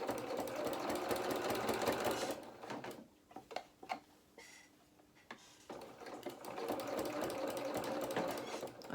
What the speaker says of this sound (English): I'm just going to go all the way across the back of this pleat.